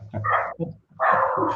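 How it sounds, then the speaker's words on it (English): Several dogs bark together, a close, loud burst of overlapping barks and yips, then a short pause and another sustained round of barking. "Now all the dogs are joining in."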